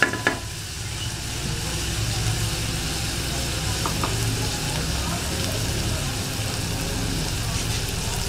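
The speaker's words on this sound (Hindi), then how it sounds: "साथ साथ इसको हिलाते रहना इस तरह से ताकि नीचे ना लगे।" Keema sizzling steadily on a hot tawa while being stirred, a dense continuous crackle with low rumble and a few sharp scrapes near the start, dhaba-style cooking.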